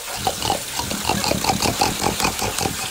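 A French Bulldog being bathed makes rapid grunting, snorting, pig-like noises in a steady run, close and moderately loud, with running water beneath.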